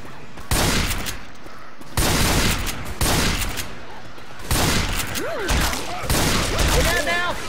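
Rapid bursts of video game gunfire crackle in several dense volleys, loud and close, while players talk over the shooting throughout.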